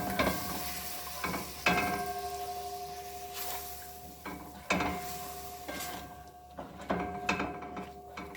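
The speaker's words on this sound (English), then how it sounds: "Adding my garlic to the pot." Garlic cloves sizzle in melted fat in a pot, a soft ongoing crackle close by, repeatedly punctuated by metallic clinks and scrapes of a utensil against the pot.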